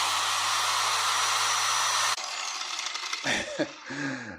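Rupes polisher running at a speed setting on its 1-to-6 dial, a loud, steady whirring hum that suddenly changes pitch partway through, then drops into uneven, lower whirring and winding down.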